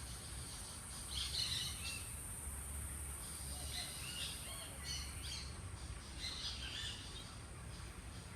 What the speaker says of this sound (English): I hear a lot of birds.